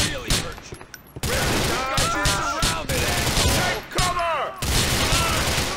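Rapid bursts of gunfire fill a firefight in GTA IV: The Lost and Damned, loud overlapping shots with brief gaps between volleys, while someone talks excitedly over the shooting.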